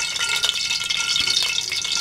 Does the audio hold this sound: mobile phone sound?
no